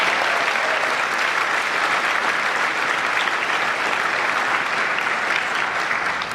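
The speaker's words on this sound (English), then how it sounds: "If I could have a huge round of applause for Lexicata and Lawpay." A conference audience at a legal technology cloud conference keynote claps in a sustained, uniform roar of applause for the sponsors, holding steady throughout before easing slightly at the very end.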